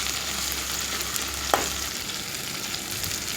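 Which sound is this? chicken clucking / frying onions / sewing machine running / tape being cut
frying onions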